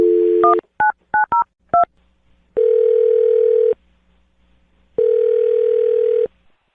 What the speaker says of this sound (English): I'm going to dial his phone number right now